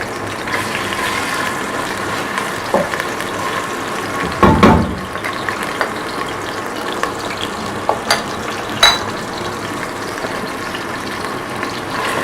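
Fresh ginger-garlic paste frying in fat in a home kitchen pan, a soft continuous sizzle broken by a few sharper scraping stirs and clatters, with no speech.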